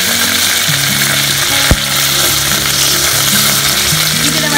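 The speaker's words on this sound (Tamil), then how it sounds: "புதினா இருக்குல்ல, இந்த எண்ணெயிலேயே போட்டு" Mint leaves fry loudly in hot oil, a close, steady sizzle with occasional stirring clinks and a sharp scrape partway through; no one speaks.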